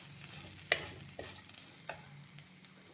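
Vegetables tossed with grated coconut stir-fry in a pan, with a low, steady sizzle and a few sharp spoon scrapes and taps against the pan.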